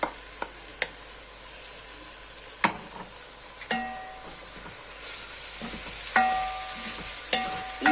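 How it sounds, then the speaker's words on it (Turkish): Soaked red lentils are added to a pot with onions for soup and stirred, a steady low sizzle with scattered sharp clinks and taps of a utensil against the pot, no talking. "Şimdi bir buçuk bardağı suda bekletilmiş mercimeğimi ekliyorum."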